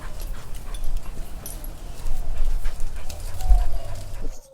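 Dog vocalizations, panting and small whimpery barks, sound close by over steady low background rumble, rising a bit in intensity toward the end.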